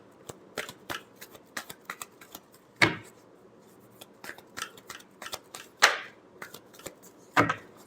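Tarot cards being shuffled by hand in a series of quick, close riffling flicks and soft slaps, with three louder snaps standing out; no talking.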